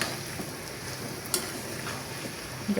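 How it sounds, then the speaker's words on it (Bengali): Taro being stirred with spices in a pan, a soft continuous sizzle with light scraping and a few clicks of the utensil, fairly quiet and steady with no talking. "এটাকে মশলার সাথে ভালো করে অনবরত নাড়াচাড়ার মাধ্যমে মিক্সড করতে হবে।"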